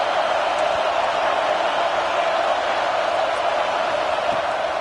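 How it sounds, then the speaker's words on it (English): A stadium crowd in the video game College Football 26 roars steadily on fourth down, a dense, constant wash of cheering noise that holds at the same level throughout. "Fourth down, and this crowd trying to help this defense rise to the occasion"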